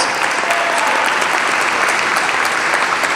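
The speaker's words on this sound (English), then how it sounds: "let's give Mary a big round of applause" Audience applause for an illustrator at a Harry Potter celebration event, a dense, steady wash of many hands clapping, loud and close, filling the whole few seconds with no talk over it.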